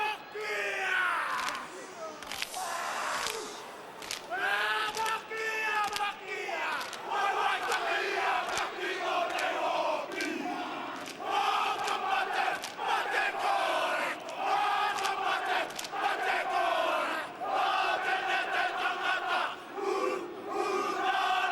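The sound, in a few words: New Zealand team performing the haka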